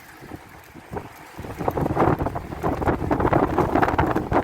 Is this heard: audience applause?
no